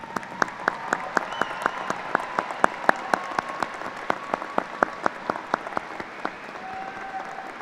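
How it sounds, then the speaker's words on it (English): Commencement crowd applauding faculty and staff, a steady wash of many hands clapping with distinct sharp claps standing out at a regular pace throughout. "Please join me in recognizing them with the applause for their contribution."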